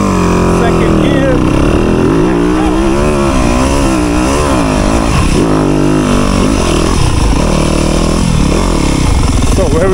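A motorcycle engine runs loud and close in second gear, its steady drone rising and falling in pitch as the throttle shifts, continuous for the whole stretch.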